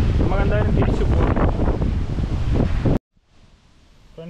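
Strong wind buffets the microphone outdoors at a 9th-century Jain monument, a loud roaring rumble for about three seconds before it cuts off abruptly to near quiet.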